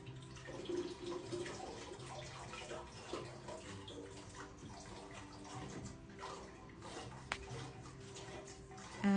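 Soaked pinto beans and their soaking water are poured into a pot, giving a steady, close wet rush and slosh with a few splashes and drips that runs throughout and rises sharply at the end.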